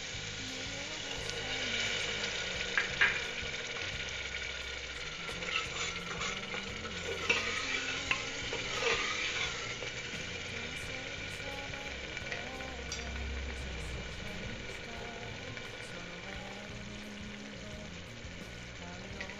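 Loud sizzling and frying hiss from a pan of cooking masala for stuffed tinda curry, with stirring clatter and bubbling after half a cup of water hits the hot mixture; no voices.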